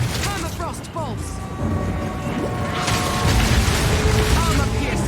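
Permafrost crossbow bolts fire in Path of Exile 2, icy bursts and mechanical clacks layered over dense combat rumble and tonal music, with a steady wash of battle noise throughout.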